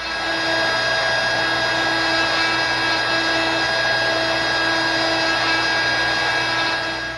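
A CNC spindle motor engraves a pencil, producing a loud, steady high-pitched whine with constant tonal hum and grinding hiss, close up and unbroken throughout.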